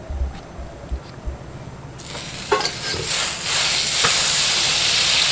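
Butter hits a hot pan about two seconds in and bursts into a loud, steady sizzle with a few sharp crackles, after quieter handling noises.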